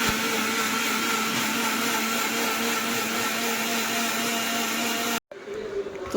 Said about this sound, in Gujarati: તો બસ મિક્સરમાં એને કરી લેશું આપણે બ્લેન્ડ।